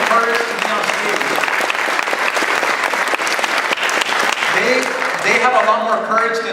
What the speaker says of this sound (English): give them a big round of applause for having the courage to be on stage